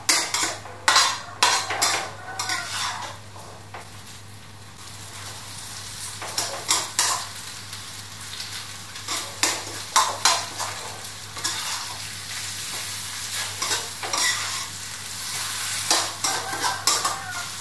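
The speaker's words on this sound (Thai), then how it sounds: "แล้วก็ผัดให้แห้งเลย" Wide rice noodles for pad see ew are stir-fried dry in a hot pan, with rapid, repeated clattering scrapes of a metal spatula over sizzling and a brief lull partway through.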